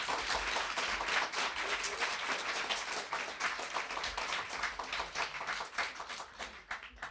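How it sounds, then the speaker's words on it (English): An audience at an evening reading gives student readers a round of applause, fairly sparse, distinct claps forming a steady rhythm that carries on throughout with no voices. "Could we get one last round of applause for everybody?"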